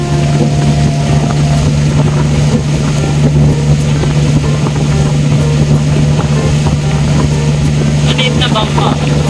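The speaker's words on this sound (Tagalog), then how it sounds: "Maliit na bangka." Small boat motor drones steadily near a beach and island, a constant low hum with wind buffeting the microphone.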